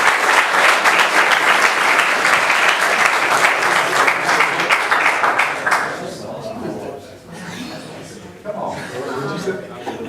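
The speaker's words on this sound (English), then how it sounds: "let's have a round of applause for Obi Snow" Crowd applause and clapping at a school board business meeting, loud and steady for about six seconds before thinning into scattered claps and murmuring voices.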